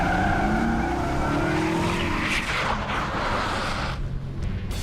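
A stunt car speeds into a 90-degree turn and skids, its engine roaring loudly alongside a long tire squeal that sweeps and fades as it slides to a stop.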